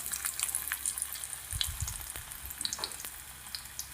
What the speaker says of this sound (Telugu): ఆయిల్ వేడి ఎక్కిన తర్వాత ఒక్కొక్కటి చిన్నగా వేసుకోవాలి. ఎందుకంటే అవి చిట్లు మన చేతుల మీద పడుకోకుండా చిన్నగా వేసుకుంటూ ఉండాలి.